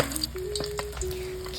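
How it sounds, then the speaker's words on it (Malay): Egg-coated fish fries in hot oil, giving a steady close crackling sizzle with scattered pops over a faint constant tone. "setelah itu kita goreng ikan di dalam minyak yang panas ya"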